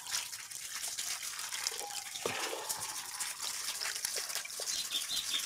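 Liquid goat-manure fertilizer swishes and trickles steadily as it is stirred in water, a soft continuous sloshing with faint birdsong in the background.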